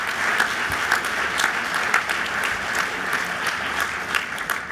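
Applause from an audience at a Camden hospital expansion announcement, steady moderate clapping filling the whole stretch at medium distance with no voices on top.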